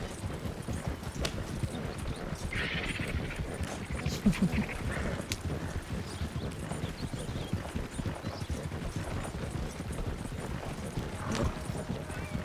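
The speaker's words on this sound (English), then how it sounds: "Keep up. Be a good horse." Horse hooves clip-clop in a steady walking rhythm in Red Dead Redemption 2, close and clear over a low ambient bed, with a brief whinny-like sound midway.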